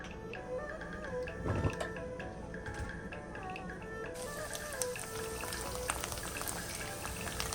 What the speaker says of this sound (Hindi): प्याज हम ब्राउन कर रहे हैं